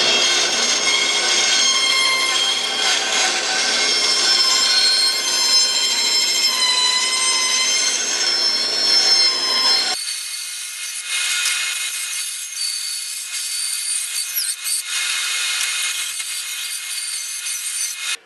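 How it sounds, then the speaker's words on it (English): A bandsaw rough-cuts red oak with a loud, steady rasping whir of blade through wood that runs unbroken for about ten seconds. Quieter, intermittent cutting passes follow. "I'm going to use the bandsaw to do a little bit of rough cutting"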